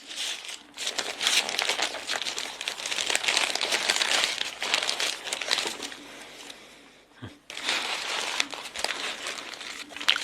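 Paper crinkling and crumpling near at hand as a wrapped Turkish kokoreç sandwich is opened, a steady run of crisp rustles with a short pause before the rustling picks up again.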